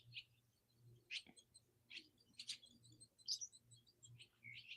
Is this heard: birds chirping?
yes